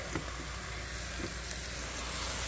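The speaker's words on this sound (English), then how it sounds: "And then I'm also going to add some diced tomatoes." Diced tomatoes go into a pan of sizzling sausage spaghetti sauce, producing a steady, close hiss of frying with a couple of faint soft thuds, no voices.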